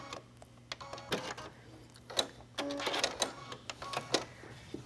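Sewing machine running short, uneven bursts while stitching elastic onto a tank top garment with contrasting thread, fairly faint and mixed with fabric handling clicks and rustles.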